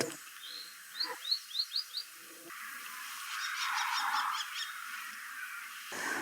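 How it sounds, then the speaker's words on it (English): A kestrel gives a quick series of sharp, high chip notes, about five in a row, then fainter chips follow over a soft outdoor hiss. "that call you heard then, that sort of chip, chip, chip, chip, pretty sure was a kestrel."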